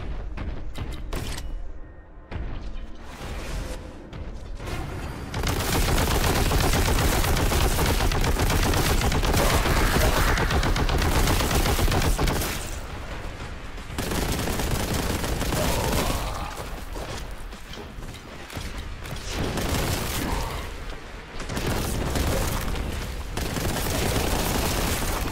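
Heavy gunfire from the video game Warhammer 40K: Boltgun comes in loud, dense bursts of rapid shots and booms, sustained for long stretches and broken by brief lulls.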